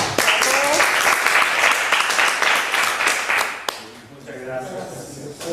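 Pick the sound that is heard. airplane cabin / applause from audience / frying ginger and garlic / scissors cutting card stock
applause from audience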